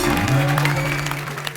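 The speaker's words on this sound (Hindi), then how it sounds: "तो एक बार काजल जी के लिए जोरदार तालियां" A studio audience on a Hindi comedy talk show applauds for actress Kajol, a loud, dense burst of clapping with sustained musical tones running underneath.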